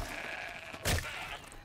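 A goat bleats in the video game Horizon Zero Dawn, one short, close bleat over a steady game background hum.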